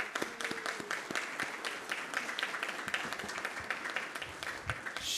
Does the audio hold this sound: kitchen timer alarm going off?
no